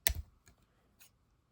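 Scissors snipping crochet yarn, a few quiet crisp clicks close by, one sharper cut followed by two fainter snaps in a silent room.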